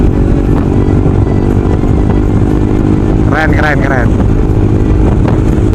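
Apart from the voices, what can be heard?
motorcycle riding in traffic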